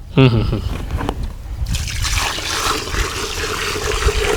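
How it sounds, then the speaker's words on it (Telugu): Water poured into a fertilizer mix for a summer tomato crop, a close splashing trickle that starts with a gurgling burst and settles into a continuous rushing flow. "ఇందులో పోసుకునేసి కలుపుకునేసి వాటర్ పోసుకోవాలి"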